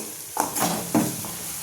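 A spoon stirs a corn and capsicum rice mixture in a pan, giving a few distinct scraping strokes against a soft, steady background sizzle.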